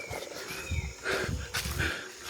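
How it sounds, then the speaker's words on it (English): Red howler monkeys howling in the Amazon rainforest, deep rough roaring calls rising and falling in a few bursts, moderately distant, with faint forest ambience and no talk. "So we're here in the spot with the red howler monkeys."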